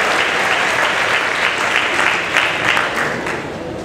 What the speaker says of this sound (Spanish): que se escuche el aplauso fuerte para los niños